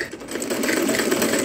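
A sewing machine stitching a colourful design on a chapati napkin, a loud, close, continuous rapid whirring hum throughout the short stretch.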